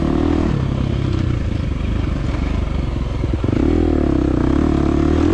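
A 2023 KTM 350 XC-F dirt bike engine drones steadily up close, its note dipping and clattering as the tire scrabbles for traction over a root on a trail scramble, then revving back up; no talk.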